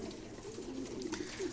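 Pigeons cooing in a loft, soft low repeated coos close by over a faint steady background hiss.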